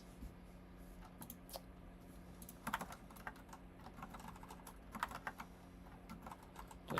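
Fingers typing on a computer keyboard while coding, quiet irregular clicks in short bursts with a few sharper clustered keystrokes, close to the microphone over a faint steady hum.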